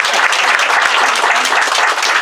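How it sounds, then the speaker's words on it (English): Dense, loud applause from a live audience honoring a poet laureate at a local event in Amesbury, Massachusetts, a steady wash of many clapping hands sustained throughout. "I propose a round of applause for this lady."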